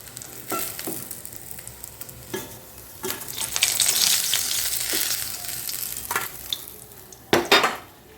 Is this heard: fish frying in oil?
yes